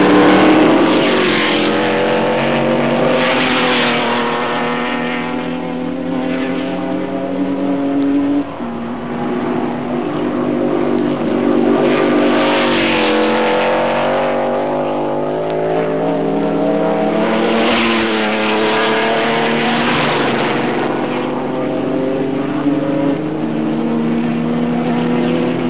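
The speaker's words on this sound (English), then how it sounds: "Alfa Romeo combined 8 cylinders and high-pressure supercharge to give a really distinctive note, as you can hear now amongst a group of other" A supercharged eight-cylinder Alfa Romeo Grand Prix car snarls among a pack of other racing cars, its rising and falling engine notes surging repeatedly as the cars pass close by.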